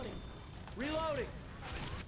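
A gun reload in Left 4 Dead 2 gives a quiet mechanical sliding and clicking action with a brief rising-falling metallic whir in the middle, faint against low game ambience.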